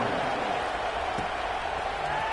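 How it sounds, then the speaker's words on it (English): A stadium crowd buzzes after a score in a college football video game, a steady, continuous roar of many voices with no break. "this crowd is buzzing after that last score"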